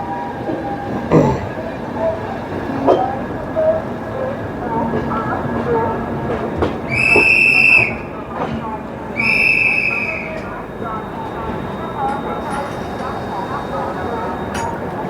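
A train pulls into Mori junction railway station with a steady rumble of wheels and carriages, two loud high whistle blasts in the middle, and people talking nearby.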